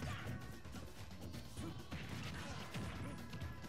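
A grenade hitting in a Super Smash Bros match between Snake and Wii Fit Trainer, a faint crashing impact among busy, quiet game sounds.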